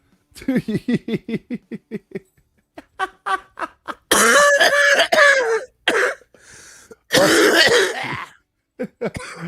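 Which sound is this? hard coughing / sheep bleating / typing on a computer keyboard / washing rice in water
hard coughing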